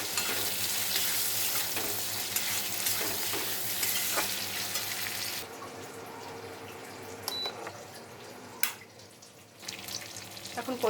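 Fried beans and potatoes stirred into sizzling fried spices for a Bengali rohu fish curry, a steady close frying hiss with scraping stirs, quieter in the second half with a few clanks.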